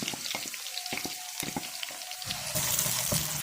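Food frying in a pan as sliced onion goes in, a soft close sizzle broken by several clicking stirs and knocks, swelling slightly louder toward the end, no talking.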